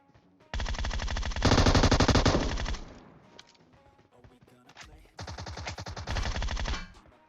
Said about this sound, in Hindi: वो बंदा अभी तक टोमी गन चला रहा है भाई